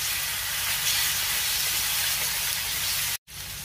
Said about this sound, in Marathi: आलं लसणाची पेस्ट घातल्यावर साधारण 1 मिनिटभर मी व्यवस्थित परतून घेणार आहे